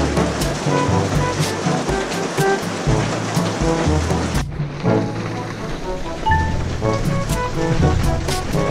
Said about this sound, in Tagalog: simula kanina medyo humina na yung ulan